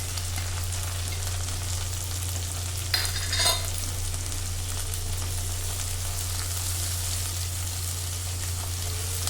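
Gongura leaves and small chitti royyalu prawns frying slowly on low heat, a soft continuous sizzle over a steady low stove hum, with one brief stirring rustle partway through.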